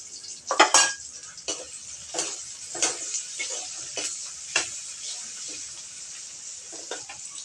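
Whole cumin and crushed cardamom go into hot oil in a pan and sizzle with a light, crackling hiss, punctuated by scattered clinks and taps of a spoon against the pan, fairly close and quiet, without speech.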